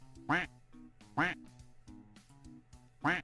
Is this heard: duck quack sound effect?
yes